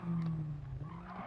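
Tires of a Nissan Silvia S14 skidding through a corner while drifting in Gran Turismo 7, a loud sustained squeal over engine drone that wavers and fades slightly across a second and a half.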